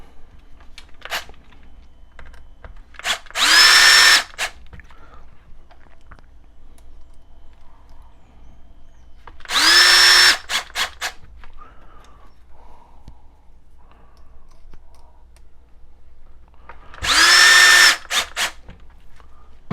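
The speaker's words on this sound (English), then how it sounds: "it may be a little easier to use your screw gun to get them in" A screw gun drives screws into a BitPixel repair kit in three separate bursts of about a second each, spaced several seconds apart. Each burst has a rising whine. Faint handling clatter fills the gaps between bursts.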